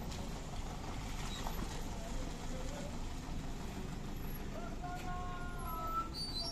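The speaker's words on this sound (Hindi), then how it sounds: "ये देखें उधर से भी एक गाड़ी आई है नीचे से भी" A vehicle engine idles and rumbles faintly on a snowy mountain pass at Babusar Top during heavy snowfall, a low steady drone with a few brief higher tones near the end.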